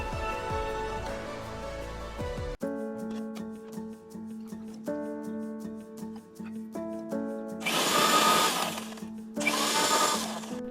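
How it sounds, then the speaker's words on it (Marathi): A kitchen mixer grinds a peanut chutney of crushed roasted peanuts, green chillies, salt and a little water, in two loud whirring bursts late in the clip over background music. "आपण हे थोडंसं पाणी टाकून वाटून घेणार आहोत."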